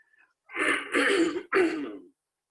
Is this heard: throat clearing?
yes